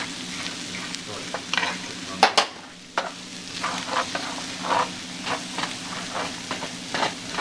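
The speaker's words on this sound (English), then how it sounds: "Jalapeno, onion, potatoes, carrot, everything in there. Bit of time, lots of time. Got all the time in the world. Just stir it up." Jalapeno, onion, potatoes and carrot fry in a pan with a loud, close sizzle, while a utensil scrapes and stirs in repeated strokes and a few sharp knocks against the pan.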